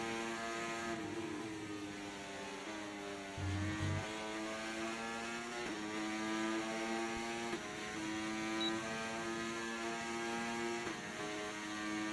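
An F1 car's engine in F1 24 played in VR on a Quest 3, a high sustained whine that climbs and drops with throttle and gear shifts, steady and fairly quiet with no talking.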